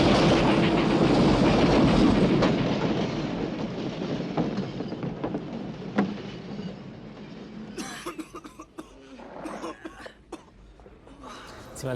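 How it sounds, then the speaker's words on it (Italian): A train rolls past on the tracks with a loud, close rumble and clatter that fades after a few seconds, followed by scattered knocks and a few shouted voices from people nearby. "il treno non si è fermato di un secondo"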